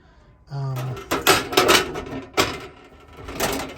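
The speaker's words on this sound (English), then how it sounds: "So folds down, swings in underneath, swings out" Metal clanks and rattles from an outdoor galley's two-burner gas stove on a 2019 Forest River Rockwood Windjammer 3006V RV as it folds down and swings out, with a brief squeak followed by several close knocks.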